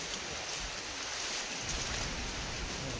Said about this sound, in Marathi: भरपूर वारा आहे आणि वरती आहेत